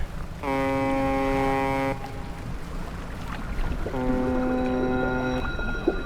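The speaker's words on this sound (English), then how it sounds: "Ooh, foghorn." A ship's foghorn in the fishing video game Dredge sounds twice, two long, loud, steady horn blasts about a second and a half each, separated by a short gap, over a low wash of water and wind ambience.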